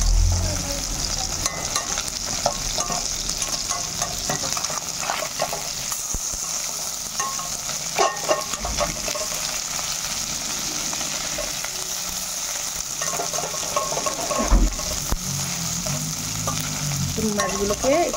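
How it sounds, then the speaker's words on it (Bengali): Small chuno fish frying in oil in a kadai are stirred and turned over, so a constant sizzle runs under scraping and clinking of a utensil throughout. "মাছগুলোকে একটু পাল্টি করে দিয়ে আবার এপাশ সেপাশ আবার ভাজবো"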